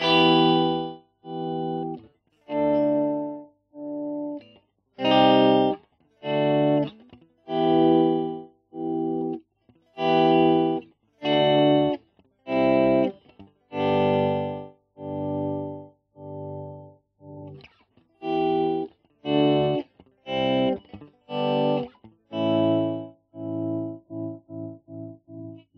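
Electric guitar notes played through a MadeByMike Saltshaker tremolo pedal set for volume swells, each chord fading in and cut off in a steady, choppy pulse, heard clearly on its own without any talking.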